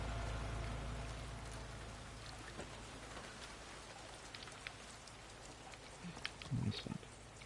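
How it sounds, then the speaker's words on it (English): Steady rain falls in the video game The Last of Us Part II, set in Seattle, a soft, even patter with a low rumble underneath, faint and continuous, with a few brief louder knocks near the end. "That rain looks pretty good."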